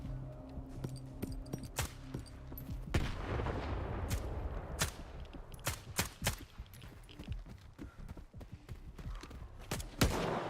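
Gunfire and a grenade blast in STALKER 2 with the Ranger Hardcore mod, fighting bandits: scattered sharp shots and short bursts, some near and some distant, with heavier booming hits mixed in at a fairly low overall level.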